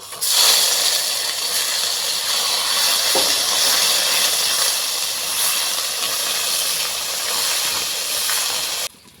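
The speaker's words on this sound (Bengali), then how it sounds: "ফাটিয়ে নেওয়া একটা শুকনো লঙ্কা দুটো তেজপাতা আদা বাটা আর লঙ্কা বাটা একসঙ্গে দিয়ে দিচ্ছি" One dried red chili, two bay leaves, ginger paste and chili paste hit hot oil in a pan, giving a loud, continuous close hiss of sizzling that cuts off abruptly at the end.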